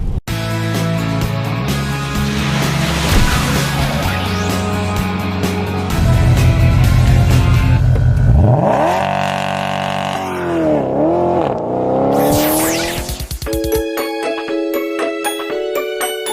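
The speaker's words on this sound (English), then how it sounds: "nothing like getting a little bit of front wheel spin" A 2013 Mitsubishi Outlander Sport accelerates hard with a loud, rising engine note and a brief chirp of front wheel spin, the revs climbing and dropping through gear changes before settling into a steady interior drone.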